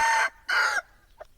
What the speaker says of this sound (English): Believe it or not, they're raising fighting chickens,